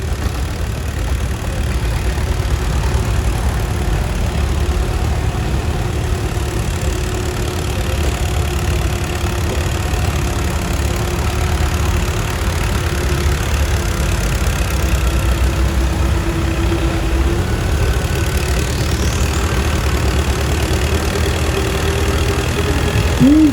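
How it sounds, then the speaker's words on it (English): An antique Allis-Chalmers WC tractor engine at an outdoor tractor pull championship, a loud continuous low rumble that holds steady throughout, heard from close by. "These jockeys driving a Alex Chalmer WC."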